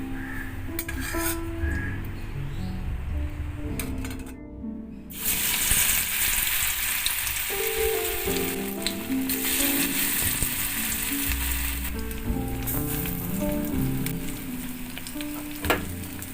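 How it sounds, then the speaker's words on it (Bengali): Drumstick leaf fritters mixed with green chilli and salt frying in hot oil in a kadai, a loud, continuous crackling sizzle up close with brief dips and occasional spatula taps, no voices. "কাঁচা লঙ্কা আর নুন দিয়ে যে আমি বেটে বেটে মাখিয়ে নিলাম সেটা আমি বড়ার আকারে ভেজে নিচ্ছি"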